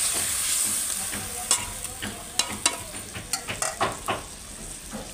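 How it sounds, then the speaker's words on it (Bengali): Pieces of silver carp are slipped into a pot of bubbling curry gravy, with a steady simmering sizzle and a few distinct clinks and splashes from spoon or fish landing near the middle and end. "ঝোলটা ফুটে গেছে, মাছগুলো দিয়ে দেবো।"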